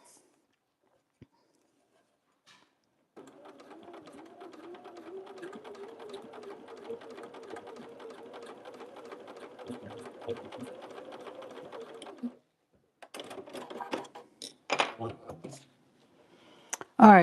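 A sewing machine stitches fabric scraps with a steady, close whir for about nine seconds, then stops, followed by a few short bursts of stitching and handling noises.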